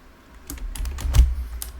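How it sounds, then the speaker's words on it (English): Keystrokes on a computer keyboard pressing the F2 key in Flight Simulator 2020 with a King Air 350i, a few close, soft clicks and taps spread over two seconds, with no talking. "I'm going to push F2 on the keyboard to get our plane going backwards."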